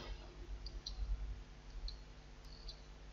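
A computer mouse gives a few soft, scattered clicks, faint and close, over a low steady hum with no talking.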